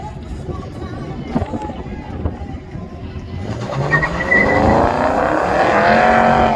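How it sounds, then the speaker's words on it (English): Engines rumble at a drag racing track, then a Pontiac roars off the line with rising pitch, loud and building, over crowd chatter. "Pontiac, early start on the inside."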